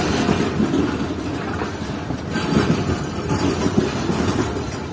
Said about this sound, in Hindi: और मेरे सामने से बिल्कुल ट्रेन भी आ रही है अप लाइन पर ही